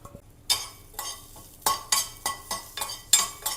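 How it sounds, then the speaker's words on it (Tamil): A metal utensil stirs and scrapes about ten crushed garlic cloves roasting in a pan, with sharp, irregular clinks and scrapes a few at a time over a faint background sizzle. "அதை இது கூட போட்டு நல்லா ப்ரௌன் ஆகிறது வரைக்கும் நல்லா வறுத்துக்கலாம்."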